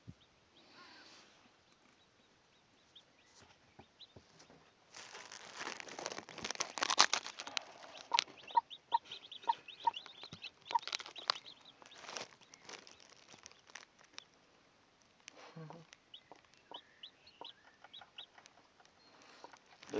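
Newly hatched chicks peep in rapid high-pitched bursts, starting faint and growing busier, with soft rustling underneath.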